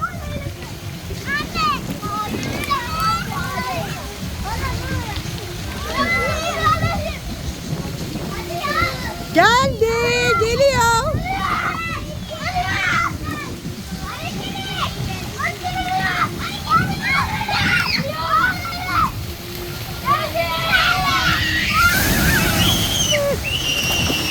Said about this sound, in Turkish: Kovayla üstlerine dökülecek.